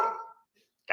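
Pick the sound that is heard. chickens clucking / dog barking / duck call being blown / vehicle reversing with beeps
dog barking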